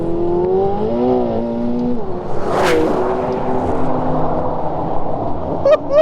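A McLaren 720S Spider engine revs hard after a downshift, its loud rising and falling tones sweeping up and settling, with a sharp burst midway and a brief squeal near the end.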